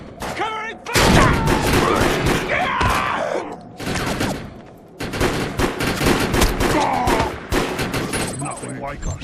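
Heavy bursts of gunfire in the video game Defiance, loud and chaotic with overlapping shots, thuds and booms, breaking off into short gaps between volleys, with voices in the mix.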